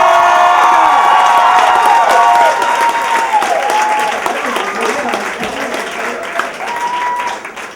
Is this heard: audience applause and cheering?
yes